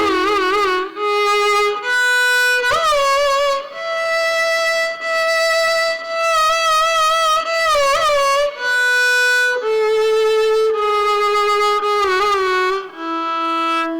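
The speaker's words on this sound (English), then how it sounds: "I'll play another ragam called Bilahari" A single melodic instrument plays the Bilahari raga scale of Carnatic music note by note, rising and then falling, each pitch held plainly without gamakas, ornamentation or slides.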